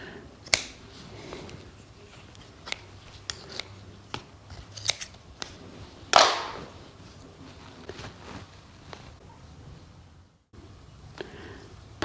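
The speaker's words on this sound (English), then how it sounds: "Take your scissors." Scissors snipping net string while making a crawfish net, a handful of sharp, isolated clicks and snips spread across quiet moments, close and fairly faint, with one louder cut.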